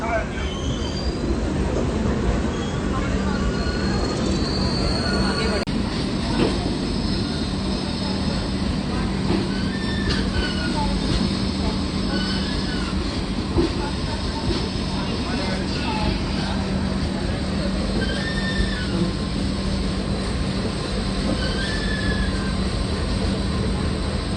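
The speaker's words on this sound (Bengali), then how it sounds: "ট্রেনে উঠে পড়েছি, ট্রেন ছেড়ে দিয়েছে" Steady rumble and rattle of the Padatik Express on the move, heard from inside a first-class AC coach, with continuous wheel and car noise and occasional faint squeals across the whole stretch.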